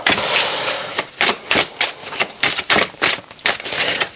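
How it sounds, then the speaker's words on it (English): Crisp, papery riffling bursts repeat in a steady rhythm as tarot cards are shuffled close by, with brief pauses between each flurry. "So let's have another card, a little bit more of a shuffle."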